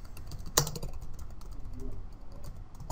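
Computer keyboard typing, a quick series of soft close-up key clicks with one sharper tap, heard alone without talk.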